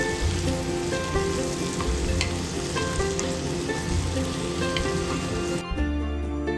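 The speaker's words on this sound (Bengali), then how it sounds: "ঢ্যাঁড়সটা অল্প ভাজা ভাজা হয়ে এসছে।" Okra sizzles steadily in a pan with a pinch of turmeric and chili powder, a continuous close frying crackle with occasional stirring, and no talking.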